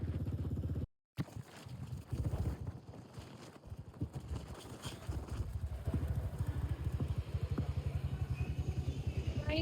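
Royal Enfield Bullet motorcycle ridden on a family Christmas trip, a close, loud, steady thumping engine beat with wind noise and a brief dropout near the start.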